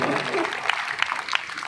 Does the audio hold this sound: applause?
yes